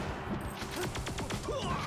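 Gunfire in the video game Super Smash Bros. Melee, a quick run of evenly spaced shots at moderate volume over background game sounds.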